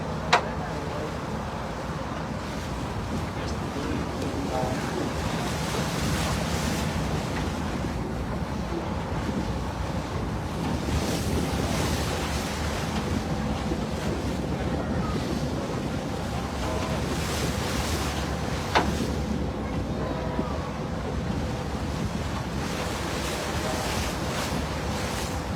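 On a boat cruising the Ohio River at Louisville during the 2024 Great Steamboat Race, with a steamboat running alongside, water rushes and surges steadily while wind buffets the microphone in a loud, continuous wash.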